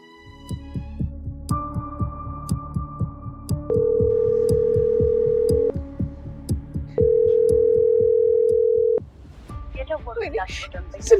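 An unanswered phone call in an Ethiopian drama rings out as two long, steady ringback tones separated by a pause, over a low, throbbing heartbeat-like pulse.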